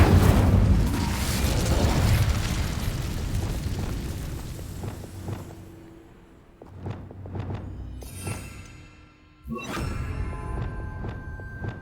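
Incendio fire spell cast in Hogwarts Legacy, a loud roaring burst of flame that decays over several seconds, followed by scattered thuds and a second sharp magical impact near the end.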